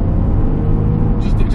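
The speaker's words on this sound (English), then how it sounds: "This car sounds like so good," Car engine roaring while being driven in second gear, a loud, close, steady low rumble running throughout, with a person talking over it.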